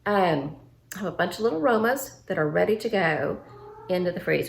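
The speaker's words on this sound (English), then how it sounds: "Sorry about the cat." A house cat meows in drawn-out, wavering cries that overlap someone talking nearby, with the calls rising and falling repeatedly through the stretch.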